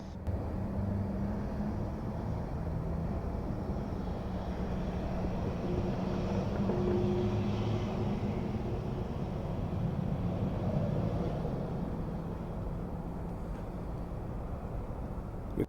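A distant airliner takes off from San Diego runway 27, its low, steady jet roar rumbling continuously at moderate volume without any nearby voices.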